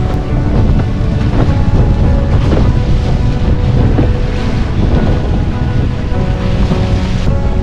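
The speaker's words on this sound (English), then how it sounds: "it does make it gusty with the offshore wind" Gusty offshore winter wind roars across the microphone during a windsurf crossing from Hayling toward Brighton, with steady broadband buffeting and sloshing water and waves underneath, loud and continuous with no talking.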